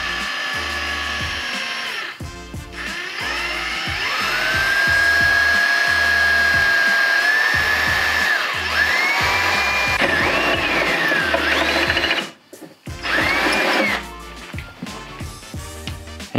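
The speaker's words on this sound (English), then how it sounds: "And you want to be careful when drilling through these holes, because there is a second layer of metal" An electric drill whines steadily while boring holes through car body sheet metal for a tail light plate mount, the pitch rising and bending under load, with brief pauses and restarts near the end.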